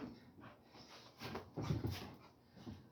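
Dogs whimpering softly indoors, a few faint whines and breathy sounds rising and falling over about three seconds, quiet and nearby.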